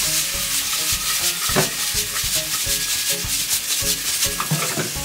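Potato, onion and tomatoes sauté in a pan, a dense sizzle broken by a rhythmic scrape and clatter of a spatula stirring close up, with no talking.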